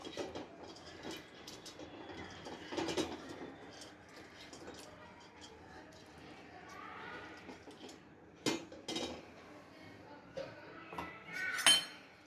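Spoon scraping and clinking against a metal pot while greasing it with a spoonful of ghee, intermittent close, light metallic taps and scrapes with sharper clinks near the end.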